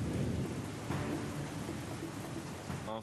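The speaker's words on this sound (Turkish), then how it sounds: "İşte burada fırtına gücü var." Heavy thunderstorm with rolling thunder and steady rain, loud and continuous throughout, with a stronger rumble of thunder about a third of the way in.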